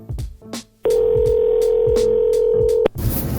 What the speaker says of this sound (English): there's a voicemail from Vince.